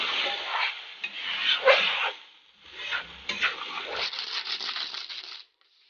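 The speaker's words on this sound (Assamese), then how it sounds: "এয়া মাংসখিনি ধুনীয়াকৈ ফ্ৰাই হৈ গৈছে।" Meat fries in a pan with loud, bright sizzling in uneven surges and scraping stirs, briefly easing before building again, then cutting off abruptly near the end.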